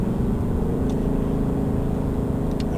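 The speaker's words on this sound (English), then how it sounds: "So we'll go ahead and downshift a few." A 2018 Ford Mustang GT's engine drones steadily while downshifting from seventh toward third gear, a constant low rumble filling the cabin with no sharp rev spikes and no one speaking.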